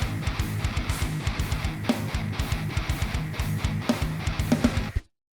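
A simplified rhythm guitar version of an intro riff, played as a steady run of short, chugging muted notes with periodic accents, loud and alone before cutting off sharply.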